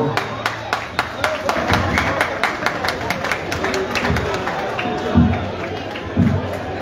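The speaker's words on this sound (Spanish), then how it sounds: "Aplausos, por favor." Applause from a festival crowd at the Santa Isabel Nepantla 2022 daytime fireworks-castle celebration in Tultepec, Mexico: scattered, steady claps spread across several seconds, with voices over them.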